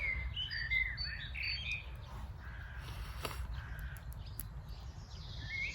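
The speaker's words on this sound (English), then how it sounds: "Bird noise." Small birds chirp and tweet outdoors in quick, light bursts, with a caw-like call mixed in, all faint against a low background rumble.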